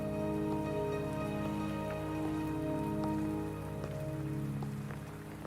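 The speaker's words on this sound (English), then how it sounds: "Are you trapped here by the rain?" Rain falls steadily in the video game Wuthering Waves, a continuous patter of drops on surfaces at an even level, layered over a sustained tonal music bed, with no talking.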